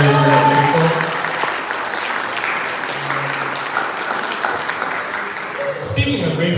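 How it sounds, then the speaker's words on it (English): Wedding reception guests break into steady applause, many hands clapping at close range for several seconds, with a voice talking over it at the beginning and again near the end. "can you please have a round of applause for Aishna?"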